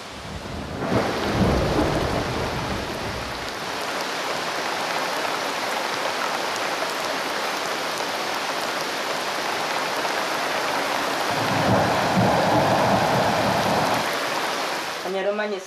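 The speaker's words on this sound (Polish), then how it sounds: "Nie słyszy pan, jaki deszcz pada. O, grzmoty." Steady heavy rain pours throughout, with low rumbling thunder swelling near the start and again toward the end.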